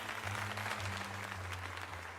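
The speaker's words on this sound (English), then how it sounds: "let us give another heartfelt round of applause to Grant." Soft crowd applause in the video game Pokémon Legends Z-A, a steady faint patter of many hands with a low hum beneath it.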